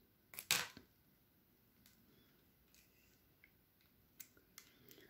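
Sharp snips of jewelry wire being cut with cutters while shaping a J-clip on a 1-step looper, one loud close clip early on followed by faint small clicks in a quiet room.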